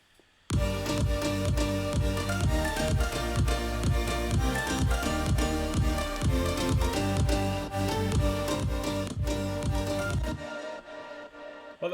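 A dance track's drop plays loud and steady for about ten seconds, with a punchy kick, driving bass and stacked keys, before cutting off abruptly near the end.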